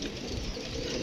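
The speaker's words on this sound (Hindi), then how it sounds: "ये कबूतरों शबूतरों को माशाल्लाह जी वो शोरे डाल रहे थे।" Pigeons coo from a sunny rooftop after light morning rain, a low, soft, continuous murmur of calls with faint bird chatter, no voices present.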